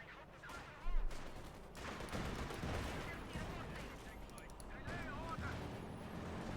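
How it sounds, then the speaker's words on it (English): Gunfire and explosions ring out in a Company of Heroes 2 real-time strategy battle between tanks and rocket launchers, a dense, rumbling barrage of distant shots and blasts with a sharper boom near the start, beneath a commentator's steady talk. "Quick shot fired there."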